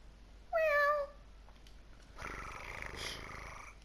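A cat gives a single rising-falling meow, loud and close, then a softer continuous purr-like rumble follows for the rest of the moment, with no talking over it.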